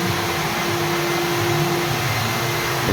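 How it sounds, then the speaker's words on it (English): A vacuum cleaner runs steadily over a concrete floor being prepped for epoxy primer after crack patching, a loud, continuous motor whine and airflow roar that stays constant throughout with no talk. "now vacuuming the floor to finish up the prep to be ready to install the epoxy primer"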